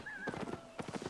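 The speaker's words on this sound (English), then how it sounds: "Now I got a cool horse" A horse mount in an online multiplayer fantasy game trots with quick clip-clop hoofbeats in two short bursts, opening with a thin whinny, close and moderately loud with no talk.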